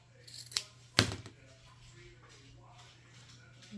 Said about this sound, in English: And then we'll cut off the seam allowance. Cut the seam allowance off.